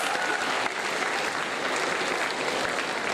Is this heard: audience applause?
yes